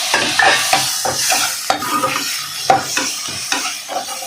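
Tomatoes stirred in a frying pan while cooking a vegetable kurma, with steady crackling sizzle under repeated scraping spoon strokes, close and fairly loud, no voices.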